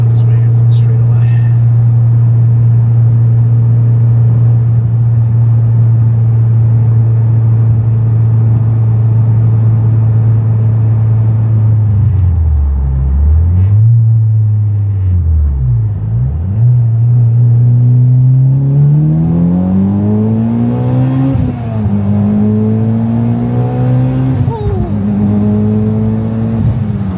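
A Mitsubishi EVO X with a monster turbo, running on E85, drones at steady cruise, dips off throttle twice, then pulls hard with rising engine revs through gears, close and loud inside the car.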